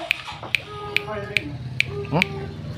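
Six crisp finger snaps fall at a steady, slow rhythm near a caged decoy bird, with chirping birdsong and a voice talking softly underneath.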